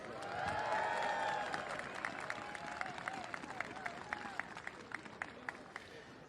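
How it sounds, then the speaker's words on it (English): A crowd at the Iditarod 2025 ceremonial start applauds the mushers and their sled dogs, a steady outdoor patter of clapping with scattered sharp claps, under a voice talking early on. "So let's give all of our mushers and our dogs a big round of applause."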